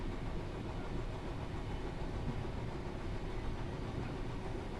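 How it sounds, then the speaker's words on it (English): A railhead treatment train locomotive in Train Sim World 3 rumbles steadily with a low, continuous engine drone and rolling noise, sounding like a heavy freight train running without a break. "It sounds like a freight train"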